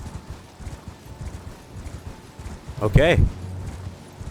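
Horse hooves clip-clop steadily in the Elden Ring VR mod as the mount moves. A voice speaks briefly over them partway through, and a louder burst sounds near the middle.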